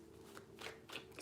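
Tarot cards being shuffled by hand, a few soft papery riffles and slides, faint and close, over about a second.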